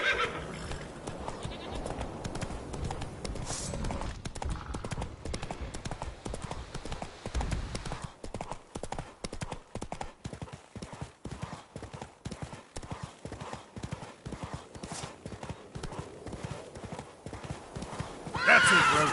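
Roach the horse gallops in The Witcher 3, with a steady rhythmic drum of hooves throughout and a whinny near the end, close and fairly loud, with speech faintly mixed in.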